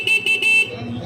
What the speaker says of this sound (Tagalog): Pakinggan natin yung busina niya guys.